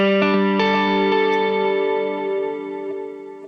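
Clean electric guitar chords run through a compressor on a POD Express Black, ringing in sustained, layered tones with a slight overdrive edge, fading gently after several strums.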